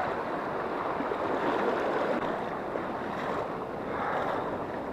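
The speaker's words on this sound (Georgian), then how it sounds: "დაბალია წყალი და საკმაოდ ხმა არის ამ დროს." Shallow, clear mountain river with trout water rushing in a steady broadband roar, close and continuous, with slight swells in intensity and some wind buffeting the microphone.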